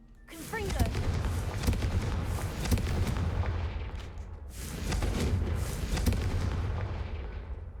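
Explosive spell blasts ring out in the Hogwarts Legacy video game, a loud booming burst followed by rumbling crackle, then a second heavy blast a few seconds later.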